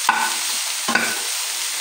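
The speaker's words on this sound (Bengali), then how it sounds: "বেগুন আর মেথি শাক একই সঙ্গে 3 মিনিটের মতন ভাজা ভাজা করে নিলাম।" Eggplant and fenugreek leaves sizzle in a hot pan, with two sharp stirring scrapes, one at the start and one near the middle, over a steady close frying hiss.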